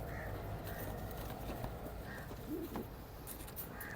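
Pigeons cooing at a Sunday pigeon market in Lalukhet, soft repeated coos over a steady background hum, faint and somewhat distant, with no talking.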